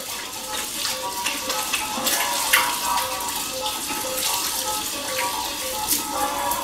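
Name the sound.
warm tap water running, hand washing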